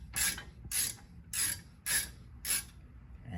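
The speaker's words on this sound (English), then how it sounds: "And I somehow switched the direction of the ratchet." A ratchet wrench clicks in five evenly spaced bursts while working on a rear brake caliper bracket of a Mercedes GLC 300, crisp close ratcheting with short pauses between strokes.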